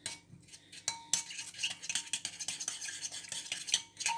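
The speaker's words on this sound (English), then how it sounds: "So I'm just going to stir that in" Soy sauce, gochujang and a little tomato ketchup being stirred together in a bowl, a close run of quick scraping clinks and taps of a utensil against the bowl, with no talking.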